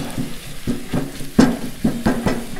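Sausage gravy in a cast iron pan on a Blackstone griddle, stirred with a spoon in repeated scraping strokes, a soft sizzle running underneath, close and fairly loud.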